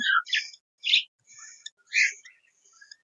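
A budgerigar chirps while being handled, giving several short bright chirps and squeaks in separate bursts, fairly close and alone with no talk.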